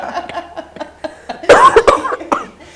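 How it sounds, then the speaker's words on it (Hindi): During a Hindi live news broadcast, a person coughs in a short cluster of harsh, close bursts, with quieter breathy sounds before and after. "खांसी।"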